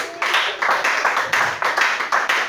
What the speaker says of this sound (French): Acclamez Jésus pour elle.